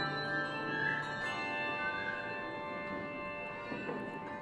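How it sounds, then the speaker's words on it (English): Handbell choir ringing a sustained cluster of overlapping bell tones, steady and moderately quiet, with no talking. "we got our own set of bells and started my own choir"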